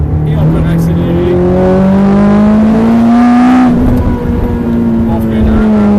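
A Ferrari on a race track pulls through a corner exit, its engine note rising smoothly and strongly as it accelerates, heard loud from inside the car while someone speaks throughout.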